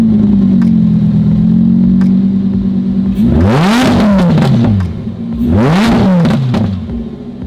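A broken Range Rover engine idles steadily, then is revved hard twice to about 4,000 RPM, each loud rise and fall sweeping up and back down to idle, close and unaccompanied.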